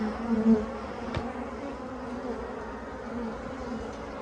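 Agitated honey bees buzz continuously inside a winter hive, making a steady, dense drone at close range with one brief sharp knock.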